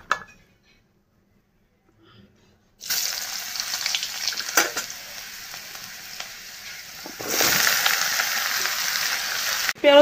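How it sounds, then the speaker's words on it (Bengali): Cumin seeds and bay leaves hit hot oil for a papaya curry, bursting into a loud sizzle after near silence, crackling steadily with a brief stir and rising again toward the end, no voices. "চলো পেঁপে তরকারিটাও সম্বার দিয়ে দিই।"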